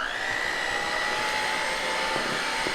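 An electric mixer runs on low speed kneading proofed yeast dough with water for sweet fried frittelle, a steady motor whine holding an even pitch with no talking.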